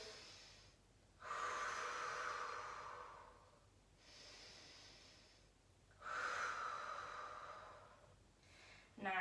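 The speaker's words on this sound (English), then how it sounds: "take 2 deep breaths for me." Two deep breaths, each a long airy inhale and exhale, close and fairly soft, paced steadily during a calm pelvic floor mobility routine, with no talking.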